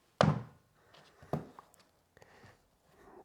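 A knife cuts through squash with two firm thunks about a second apart, then softer scraping and tapping, close and otherwise quiet.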